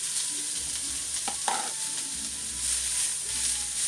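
Cabbage, carrots and sprouts stir-fry in avocado oil in a wok: a loud, constant hiss with scraping stirs and a sharp clack near the middle.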